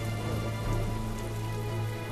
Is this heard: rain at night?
yes